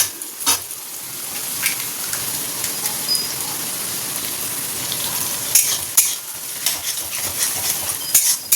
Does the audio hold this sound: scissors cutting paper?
no